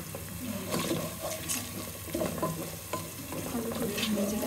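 Cinnamon, cardamom and bay leaves fry in hot oil with onions in a pot, giving a steady close sizzle broken by soft stirring scrapes.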